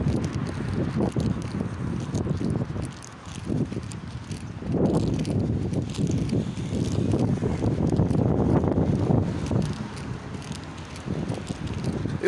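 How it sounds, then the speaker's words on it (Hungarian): Cold wind blowing outdoors on a Monday afternoon after rain, a steady low buffeting roar across the microphone that keeps going with slight surges, and no talking. "Nagyon hideg szél fúj"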